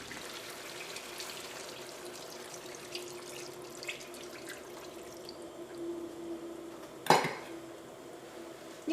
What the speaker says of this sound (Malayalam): ഇതിലേക്ക് നമുക്ക് തേങ്ങാപ്പാൽ ഒഴിക്കാം.